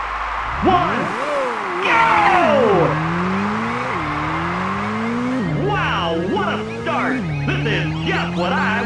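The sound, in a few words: race car engines revving in Ridge Racer video game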